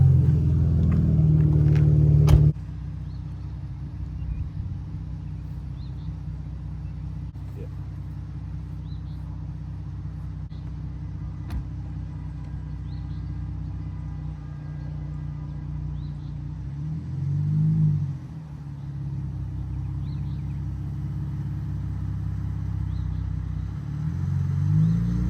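A Tesla Model X Plaid electric car accelerating, heard from inside as a steady low road rumble and tire hum with faint rattles, a brief swell of rushing noise partway through, no talking.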